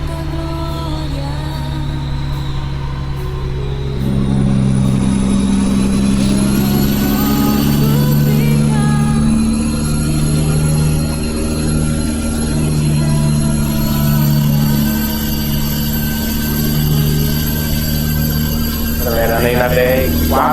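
In Euro Truck Simulator 2, a Mercedes-Benz truck engine rumbles loudly, then its pitch climbs and holds as the truck accelerates along a highway. A voice is heard over it throughout.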